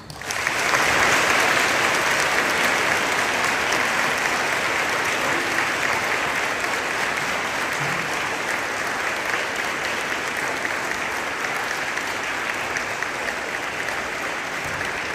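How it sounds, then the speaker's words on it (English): Sustained applause from a large audience, steady dense clapping that holds for the whole stretch without letting up. "Please join me in a round of applause."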